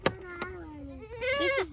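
A goat bleats twice close by: a short call, then a longer wavering one, with a faint knock at the start.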